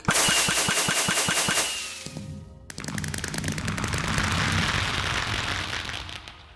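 Fireworks going off in a video game, a rapid burst of sharp pops for the first couple of seconds, then a dense, loud crackling barrage that swells and fades out.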